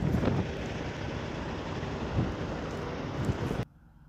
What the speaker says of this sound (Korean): 지금 차 안에 있어도 차가 흔들흔들합니다. 바람 때문에.